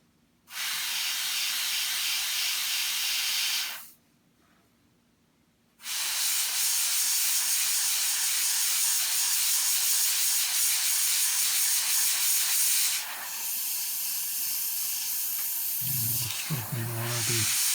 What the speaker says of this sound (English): I don't know what's up with my airbrush today.